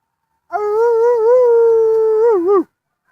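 Dogs howling outdoors in a natural setting, a single sustained, wavering howl lasting about two seconds, fairly close and loud, with no talk over it.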